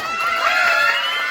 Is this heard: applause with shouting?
yes